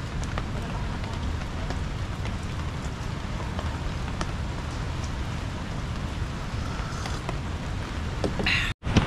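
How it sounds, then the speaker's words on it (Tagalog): Rain falls steadily in the dark near the seaside, a dense, even hiss of drops with scattered sharper patters, continuous for around nine seconds before a sudden break at the end. "dumarangkada naman ang ulan sa dilim ng kalangitan"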